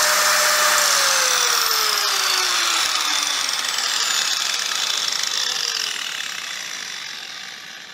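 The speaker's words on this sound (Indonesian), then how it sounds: "Jadi ketika tidak digunakan untuk gerinda sesuatu, dia untuk nyala aja, itu dia cuma butuh 390 watt." A Deko 5-inch 125mm slim industrial angle grinder idles with no workpiece, a loud, steady, high-pitched motor whine with a gliding tone that slowly drops as the machine runs down near the end, heard alone.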